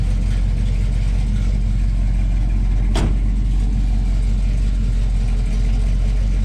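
An American car's engine runs steadily at a meet near Glasgow, a loud, continuous low rumble with a deep, even tone and one brief sharp click midway, heard up close without voices.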